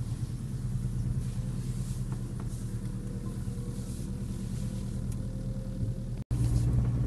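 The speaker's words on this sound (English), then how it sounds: "So we're just driving along now at 40 kilometers an hour during warm up." A Subaru EA82 Turbo car warming up while driving at 40 km/h gives off a steady low rumble of engine and road noise from inside the cabin, broken by a brief dropout near the end.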